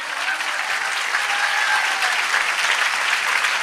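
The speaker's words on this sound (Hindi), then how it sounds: "जोर से ताली बजाएं।" A large audience at a sermon claps loudly and steadily, a dense wash of applause that holds at an even level throughout without voices over it.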